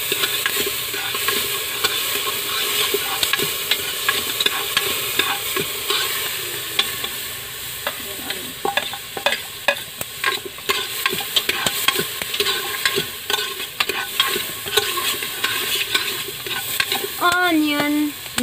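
Garlic frying in a little oil while being stirred in a pan in an outdoor garden kitchen, with a steady sizzle and repeated scraping, clattering stirs throughout and a brief voice near the end.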